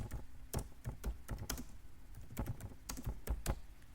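Rapid, uneven clicking of keys on a computer keyboard as someone types a short phrase, close and clear with no talking.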